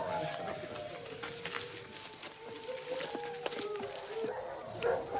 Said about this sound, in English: Those dogs are definitely getting louder.